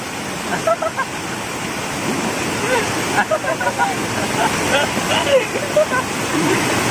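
Steady rushing river water near Mangaon, a broad continuous wash with voices speaking over it in short bursts.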